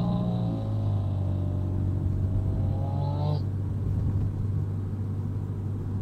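A Subaru with equal length headers passes by, its exhaust a low steady rumble under road noise, with a rising engine tone that cuts off partway through.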